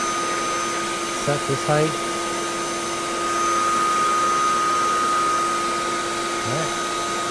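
Bosch RA1181 benchtop router table with its router running, a steady loud high-pitched motor whine that holds throughout, with someone briefly speaking over it early on.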